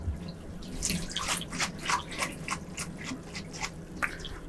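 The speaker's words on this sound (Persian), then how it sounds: "دوباره بهش آب رو اضافه میکنیم" Water is poured into a pot of Persian rice during the draining and steaming preparation. It makes a steady, close splashing trickle with scattered drips throughout.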